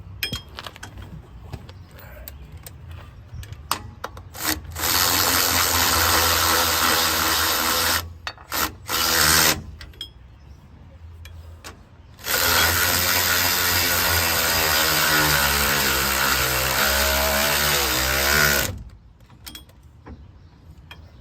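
Electric ratchet driving bolts on a 1970 Ford Falcon 9-inch rear end install, bursts of steady whirring of several seconds each, loud and close with short gaps between runs.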